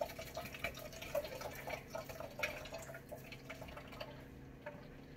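Water trickles and drips into coconut horchata being made, a faint, uneven splashing and dribbling with small bright drops, steady over several seconds without talk.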